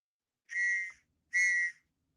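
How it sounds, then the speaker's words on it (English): A whistle is blown twice, two sustained shrill blasts of about half a second each with a short pause between, clear and fairly close in an otherwise quiet room. "Can you blow the whistle again?"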